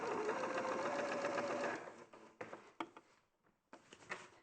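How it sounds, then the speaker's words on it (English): A sewing machine stitches forward and back in a close, steady whirring run, then stops and leaves a few brief clicks and handling knocks. "So again, do the stitch forward and back."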